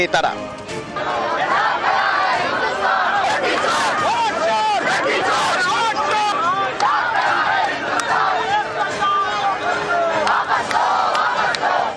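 Opposition protesters chant slogans in a loud, packed crowd stopped at a Delhi Police barricade near Parliament, rhythmic shouted calls and responses layered over constant crowd roar throughout.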